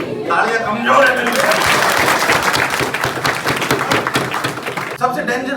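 Crowd applause at a traffic safety awareness event in Jaipur, building from speech into a loud, dense burst of clapping that holds for several seconds before fading, with a voice heard at the start and end.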